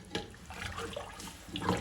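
Water running from a tap into a glass while cooking chicken pulao, a soft, steady splashing stream that stays fairly faint throughout.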